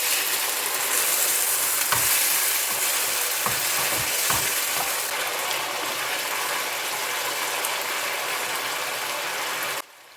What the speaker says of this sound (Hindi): और जो मसाला पीस के रखे थे ना बस उसको डाल के ना अच्छे से इसको भून लेना है।